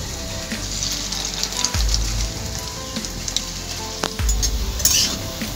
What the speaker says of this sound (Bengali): তেলে দেওয়ার সঙ্গে সঙ্গে বড়াগুলো খুব ফুটে